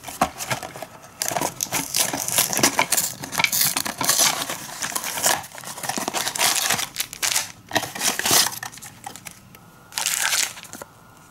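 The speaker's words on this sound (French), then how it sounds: "il n'y a plus qu'à ouvrir chaque boîte et vous présenter chaque set" Re-Ment Sailor Moon Crystal toy boxes are opened with bursts of crinkling, crumpling packaging and tearing, loud and close in uneven clusters separated by brief pauses.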